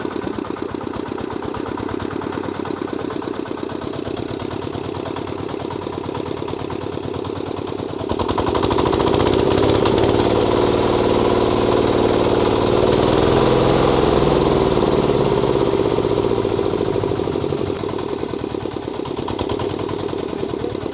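Motor of a walk-behind tractor (motoblock) running steadily nearby, a rapid chugging idle that jumps to a louder, higher-revving roar partway through.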